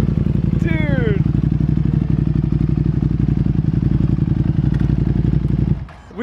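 A Ducati Panigale V2 motorcycle engine runs at a steady, loud, throbbing idle or low cruise close by, with a brief whistling tone early on, cutting out abruptly near the end.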